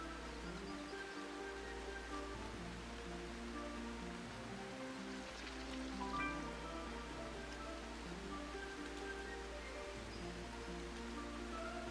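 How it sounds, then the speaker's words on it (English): Steady rain falls in the video game Spilled!, a continuous soft hiss laid over gentle layered tones of game music, with no voices. "I like that it's raining here."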